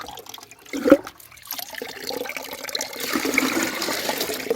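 Water gushes from a pipe onto coconut trees in a Konkan garden, starting with a few splashes and a brief knock before building into a steady, rising pour with no talk.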